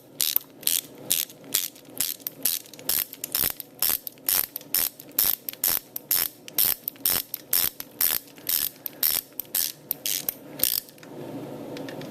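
A ratchet wrench clicking as the locking bolt is loosened on a 2004 Harley-Davidson Dyna Custom, a steady series of crisp, loud, close ratcheting strokes at an even rhythm, with no speech.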